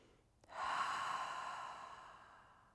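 A yoga cleansing breath: a sudden, close intake that flows into one long, soft exhale which slowly fades. Nobody speaks.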